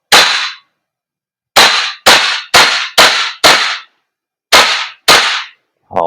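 Umarex HK416D Gen 3 airsoft gas blowback rifle by VFC firing semi-auto, eight loud, close, snappy cracks at an uneven pace, some in quick succession and others spaced by pauses, with a faint clatter at the very end.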